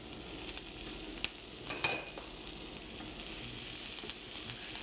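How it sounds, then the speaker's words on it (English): Zucchini, corn, black beans and potatoes with onions sautéing together in a pan, a quiet steady sizzle with a couple of brief stirring clinks, no voices. "You're going to continue to saute them all together for about 2 to 3 minutes until heated through."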